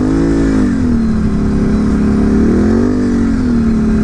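Can-Am Renegade XMR 1000 ATV engine revving loud and close on a trail ride, a steady throaty drone that rises, eases and swells again, with no talking.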